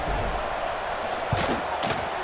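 A large football stadium crowd at a big rivalry game roars in a steady wall of noise, with brief swells of shouting and a couple of thuds rising above the din.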